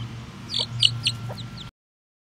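A hen clucking in a few short, quick notes close by over a low background hum, ending abruptly.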